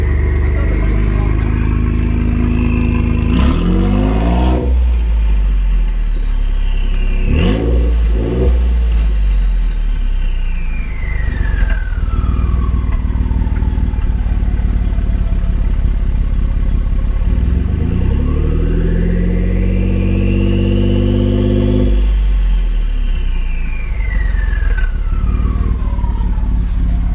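A turbocharged truck with a new budget exhaust cut in after the cats revs loudly and repeatedly, engine roar climbing and falling with rising and falling turbo whine, sustained and close throughout.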